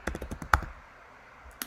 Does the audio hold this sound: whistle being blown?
no